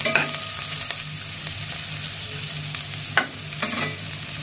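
Onions and chillies frying in a pan for vegetable noodles give a steady close sizzle, with a few sharp stirring scrapes near the end and no talk.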